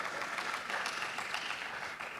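Steady applause from an audience at a ministerial cocktail reception and prize-giving ceremony, a dense even patter of clapping that holds at moderate level throughout without voices.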